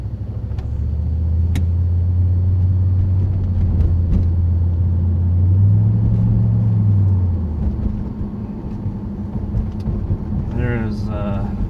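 2008 Pontiac Grand Prix GXP fitted with a Thrush welded muffler, heard from inside on its first drive: a deep close exhaust drone that climbs and falls twice under acceleration, then settles into a low rumble.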